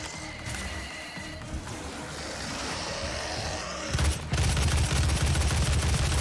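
Rapid gunfire blasts from Doom (2016), the demon-shooting first-person game, arrive in a dense, loud barrage that swells toward the end over a constant roar of game ambience.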